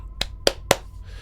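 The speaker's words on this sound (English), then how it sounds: "clap your hands" Three sharp, separate claps spaced evenly about a quarter second apart, close and distinct against a quiet background.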